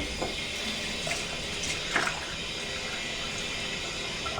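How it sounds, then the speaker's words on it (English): Running water from a tap while lathering Mitchell's Wool Fat shaving soap, a steady moderate stream with faint splashes and small irregular bursts, no voice heard. "I'm adding in a little bit of water because it's been a couple minutes since I got out of the shower."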